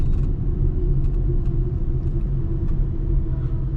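Steady low road rumble and engine drone inside a 15-year-old car during a drive, heard from the cabin with a few faint clicks and taps over a constant hum.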